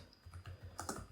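Quick keystrokes on a computer keyboard while entering a Python command at a command prompt, a handful of soft close taps ending in a pair of sharper strokes, with no talking.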